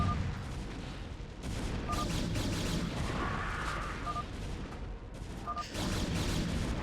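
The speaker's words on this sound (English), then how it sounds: "G5 actually pelting this with siege tanks" Siege tanks firing artillery in a strategy video game, heard as a dense, fairly faint rumble of distant booms and impacts under a continuous muffled battle din.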